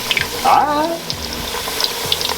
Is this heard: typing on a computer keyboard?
no